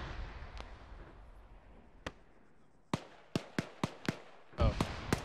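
Sharp launcher shots and blasts in Arma combat, a cluster of separate bangs, several in quick succession, then a final loud burst over a low rumbling background.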